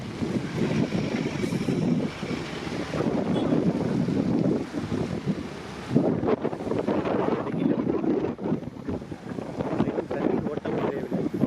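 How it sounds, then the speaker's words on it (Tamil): Floodwater of the Adyar river rushing in high flow after Cyclone Fengal, a loud, steady broadband roar with gusting wind buffeting the microphone throughout. "தண்ணீர் ஓட்டம் குறையவில்லை."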